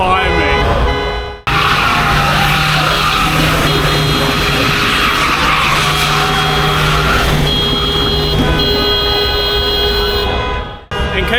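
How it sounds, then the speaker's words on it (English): Cars doing donuts in the street during celebrations after Georgia beat Portugal at Euro 2024: continuous loud tire squeal and engine roar close by, with crowd noise and voices mixed in. "the people doing donuts or car surfing"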